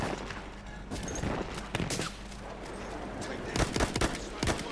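Sharp bursts of rifle and machine-gun fire crack through a night battle in Battlefield 1's Nivelle Nights map, with distant fusillades, several louder nearby shots and a low rumbling backdrop, heard alone without talk.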